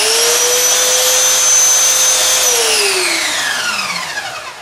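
Power sander whirring steadily as a wooden bachi edge is turned against it, loud and close, its pitch dropping as the motor winds down near the end.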